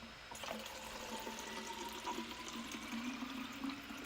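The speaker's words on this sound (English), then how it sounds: "Just gotta pour this plastic water bottle into this other water bottle" Water poured from one plastic bottle into another, a faint continuous gurgling trickle with a rising tone as the bottle fills, steady for several seconds.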